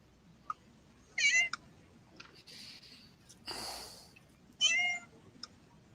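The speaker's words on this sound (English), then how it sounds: "somebody's got a kitten" A kitten gives two short, clear, high meows a few seconds apart, close but fairly quiet, with soft breathy noises and faint clicks in between.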